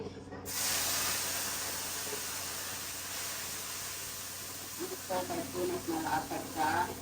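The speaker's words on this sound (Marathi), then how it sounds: "तडका देते बघा" Tadka tempering hits hot oil on a home cooking stove, setting off a loud, steady sizzling hiss that starts suddenly, holds for several seconds and slowly settles while voices talk over the end.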